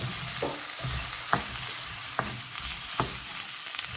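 Grated coconut roasts dry in a pan with a steady close hiss, while a spatula scrapes through it every second or so in soft, regular strokes.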